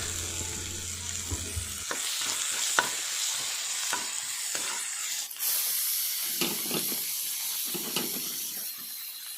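Shrimp paste (alamang) being sautéed with meat in a pan for a vegetable dish, a steady hissing sizzle broken by repeated spatula scrapes and clinks, close and continuous without talk.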